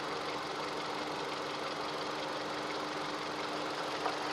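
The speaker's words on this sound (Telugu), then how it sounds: "ఇంజన్ స్టార్ట్లో ఉంది" A 2020 Hyundai Venue petrol car engine idles steadily with a smooth, even hum and no talking, the low running drone holding constant throughout.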